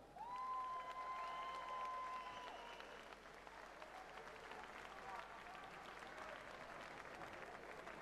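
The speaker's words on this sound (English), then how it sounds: "A round of applause, come on." A crowd applauds and cheers after a 65kg A-class Muay Thai bout ended by knockout, a steady wash of clapping heard at a distance with a voice audible early on.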